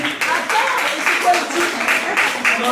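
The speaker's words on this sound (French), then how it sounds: "bravo, applaudissez" Audience at a community awareness session in Mali claps in short uneven bursts, moderately close, with voices talking over the clapping throughout.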